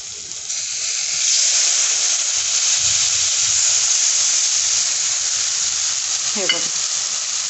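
Besan batter for spicy pithla hits a hot tempering over a high gas flame and sizzles loudly and steadily, a continuous close frying hiss throughout with no talking.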